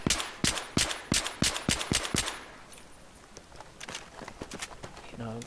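A QBU-88 marksman rifle fires in Battlefield 3 as a fast, evenly spaced string of loud, sharp shots, then a looser run of quieter shots and clicks, with a voice talking over parts of it.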